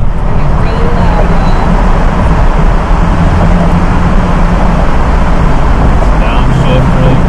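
A Dodge Challenger Hellcat Redeye engine roars steadily in a tunnel with the windows down, a loud continuous low rumble filling the cabin as people talk over it.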